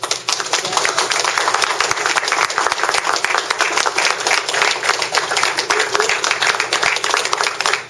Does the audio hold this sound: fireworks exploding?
no